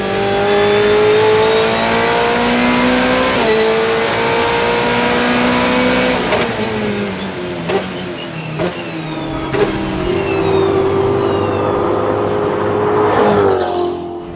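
One-off Lotus with a Ferrari twin-turbo V8, revved during testing: loud, close engine climbing and falling in pitch through several sweeping runs with sharp pops between, no voices.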